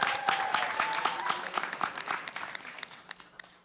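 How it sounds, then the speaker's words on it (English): An audience at a hip-hop induction gala bursts into applause, loud at first and then thinning to scattered claps that fade out over a few seconds. "Round of applause for Birth of Hip Hop, everybody."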